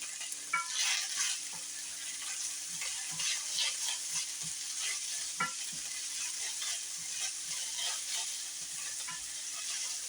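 Corn frying in butter in a pan, with continuous sizzling and scattered crackles and pops as it is stirred, steady and close with no voices.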